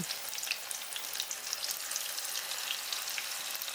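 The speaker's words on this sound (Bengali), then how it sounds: "তেল গরম হয়ে গেলে ম্যারিনেট করা মাছ ব্যাটারে ডুবিয়ে তেলে ছেড়ে দেব" Battered, marinated topse fish fries in hot oil, giving a steady fine crackling sizzle with frequent tiny pops, close and moderately quiet, and no one speaking.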